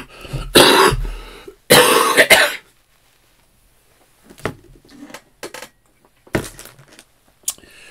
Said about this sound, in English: my cold is still lingering, particularly the cough